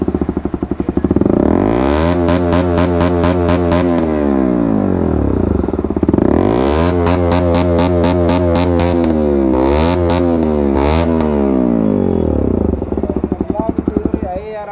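A modified KTM RC 125 motorcycle exhaust, loud and close, rising in repeated sharp revs that climb and fall, with crackling pops between blips and a rattling idle as it settles.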